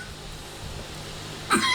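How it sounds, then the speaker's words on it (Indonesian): A single short cough bursts out near the end after a stretch of quiet room tone. "Batuk lagi."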